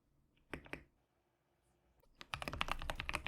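Typing on a computer keyboard while coding a Java notepad text editor: a short pair of keystrokes, a pause, then a dense, close run of rapid clicking keys with no voices.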